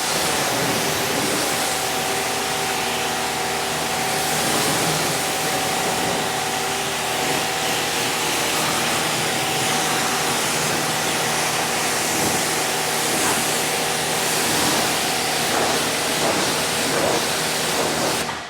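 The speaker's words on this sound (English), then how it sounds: "basically spray this down, and it's important to kind of rinse it away quickly." A pressure spray rinses down a Rivian R1T truck, making a loud, steady broadband hiss and rush of water. It runs without a break for about eighteen seconds, with a faint hum underneath.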